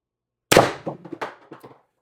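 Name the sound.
X-68 Storm Trooper airgun shot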